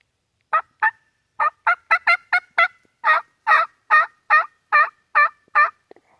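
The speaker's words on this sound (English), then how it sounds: "The turkeys have shut up." Turkeys gobble in a rapid series of about fifteen short, sharp calls, loud and close, with brief even gaps and no talk.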